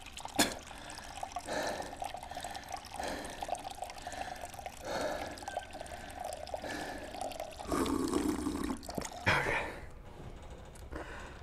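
Cold water runs from a bathroom tap in a gym, a steady splashing flow with drips and pours lasting most of the clip, fairly close and moderately loud, with no talk over it.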